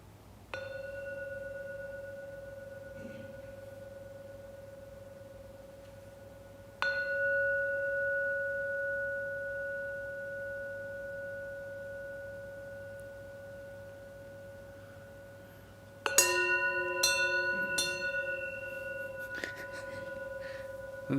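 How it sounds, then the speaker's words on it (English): Gong at the close of a guided Buddhist meditation session, rung three times: two long sustained tones spaced apart, then a third strike followed by a cluster of brighter ringing hits, each leaving a steady shimmering decay in a quiet room. "I will ring the gong 3 times, and then after the 3rd gong you can open up your eyes"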